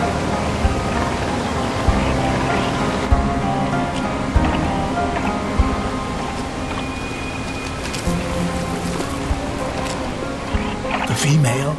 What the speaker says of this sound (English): The roar of the waterfall drowns the sound of slipping rocks.